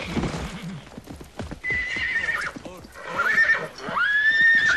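A spooked horse whinnies shrilly several times over scattered hoof clops and shuffling, with the high neighs growing louder and closer toward the end.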